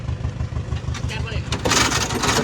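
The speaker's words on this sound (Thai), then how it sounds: "มาฟังเสียงเครื่องยนต์กันครับ" Engine of a used car, bought at night, cranks and catches: a rhythmic low chugging, then a louder, rougher burst as it fires up, close by with someone talking over it.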